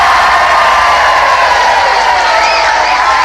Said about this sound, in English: Please give him a nice round of applause.